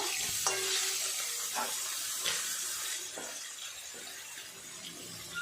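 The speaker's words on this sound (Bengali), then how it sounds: "সমস্ত সবজিগুলো আগে ভেজে নেব" Pieces of potol and other vegetables fry in oil in a pan for a silver carp fish curry, giving a continuous loud sizzle with occasional scrapes and taps of a spatula.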